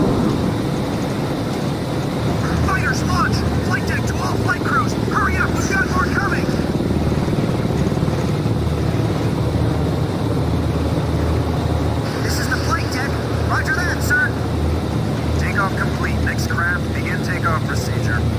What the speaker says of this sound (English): Fighters, launch! Flight deck to all flight crews!